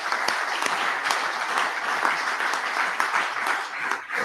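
Dense audience applause at the official presentation of the Gesteco basketball team, a sustained wall of many hands clapping with occasional sharper individual claps standing out, steady and loud from start to finish.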